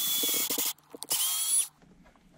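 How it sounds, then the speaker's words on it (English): Power drill boring through the dashboard of a VW T4 camper van, two short close whirring bursts with a brief stop and stutter between them, then quiet. "Just going to drill through the dash now."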